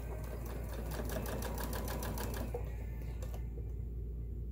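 A Kenmore 385.19153 sewing machine running a straight stitch, with a steady rapid needle chatter close up that slows and stops near the end.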